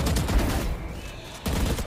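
Gunfire in the Valorant video game, a burst of rapid shots at the start and another sharp burst near the end, with quieter game sound between.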